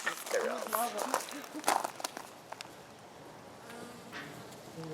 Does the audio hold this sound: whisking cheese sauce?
no